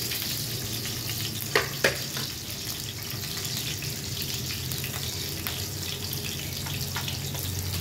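Garlic and onion sautéing in a pan, a steady close sizzle with two sharp utensil knocks early on and faint scraping as it is stirred, no talking.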